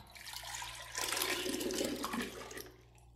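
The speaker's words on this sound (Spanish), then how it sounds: "ponemos medio litro de agua." Half a litre of water pours into a container on a kitchen scale, a steady close splashing gush for about two seconds that then tapers off, with no talking.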